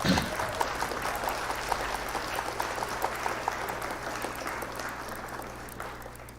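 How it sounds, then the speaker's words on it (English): Steady applause from a group fills the whole stretch, dense and lively at first and gradually tapering a little toward the end. "Let me get a clap for all of us."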